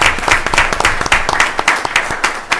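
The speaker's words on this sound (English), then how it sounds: "I think you guys deserve a round of applause for what you guys have done" A room of children and families breaks into dense, lively clapping during a county commission meeting. The clapping is loud and close, with sharp individual claps standing out and no break for the full duration.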